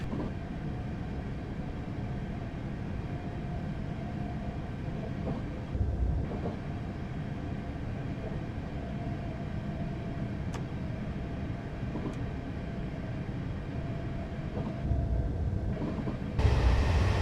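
Class 444 electric train in Train Simulator 2015 rolling along and braking lightly on the Woking to Portsmouth Harbour line: a steady low cab rumble with faint brake hiss and a few clicks, unbroken by voices.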